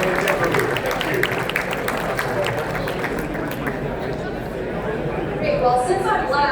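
Audience applause for a panel interview at a local government forum, a broad wash of clapping mixed with crowd chatter and speech, fading toward the end as voices take over.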